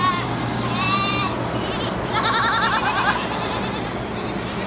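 Young goats on a medicated pellet bleat repeatedly at morning feeding, several overlapping cries close by over steady barn hum, with a person talking among them.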